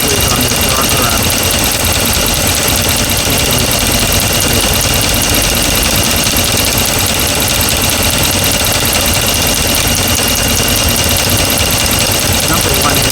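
A 2009 Ram pickup's 5.7-litre engine idles steadily after a rebuild, with a lifter on the number one intake ticking; the engine sound is loud, continuous and close, with no talk over it.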